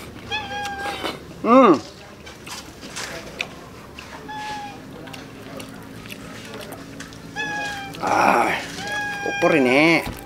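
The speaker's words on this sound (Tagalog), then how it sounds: "May pusa kagad." A cat meows repeatedly up close, with several drawn-out, rising and falling cries spaced across the stretch, a few louder and more strained than others, amid background voices and household noise.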